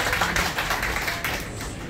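A gathering at a primary school alumni general meeting breaks into applause, a brief, fairly dense round of clapping heard up close.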